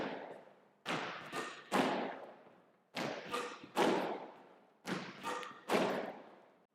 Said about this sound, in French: je ne veux pas frapper la balle trop fort dans cet exercice